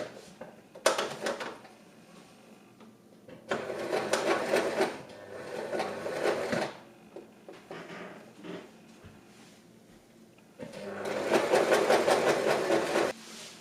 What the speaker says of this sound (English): and then I continue sewing.